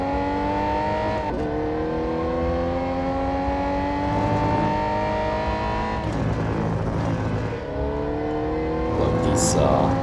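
Ferrari 250 GTO racing in Real Racing 3, its engine rising in repeated climbing revs with gear changes, loud and close, while a voice talks over it.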